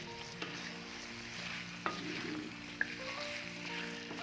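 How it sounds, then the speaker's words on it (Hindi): Mutton frying with onions for a meat saag dish, a steady close sizzle with occasional light taps of a utensil as the meat is stirred in the pan. "और प्याज के साथ हम अपने मटन को कर लेते हैं मिक्स।"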